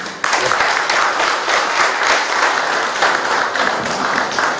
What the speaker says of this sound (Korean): 그분들에게 심찬 박수 한 번 부탁드릴게요